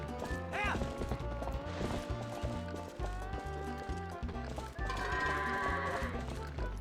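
Goats bleat over game music in The Legend of Zelda: Twilight Princess HD, with a steady rhythmic beat and clopping footsteps, one high bleat standing out early.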